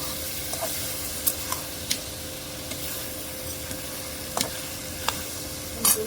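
Spices sizzling in oil for hilsa fish curry with greens, a steady soft frying hiss in a pan broken by occasional sharp clicks and scrapes of a spoon stirring, no voices.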